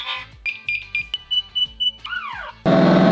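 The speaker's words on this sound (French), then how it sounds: "on est en train de tester pour le réveil là" An alarm clock is being tested, giving a rapid series of sharp electronic beeps, then a falling warble tone, before a harsh loud buzzing blast cuts in at the end.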